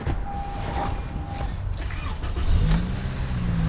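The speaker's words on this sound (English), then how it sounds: "The engine's running." A car engine cranking and catching after a boost from a TopDon jump starter on a weak battery, with mechanical creaks followed by a steady low idle rumble settling in close by.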